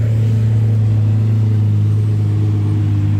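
A Lamborghini Murcielago supercar in Monaco produces a steady, loud, low engine drone with a strong rumbling tone, heard alone the whole time.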